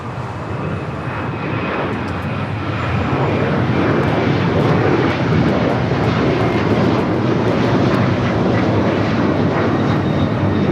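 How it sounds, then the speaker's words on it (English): Boeing 737-900ER jet airliner taking off at Los Angeles International Airport, a loud, steady roar of engines that builds slightly and holds for the whole stretch, heard close without voices. "Airlines 2161 taking off to Newark on the 737-900 ER"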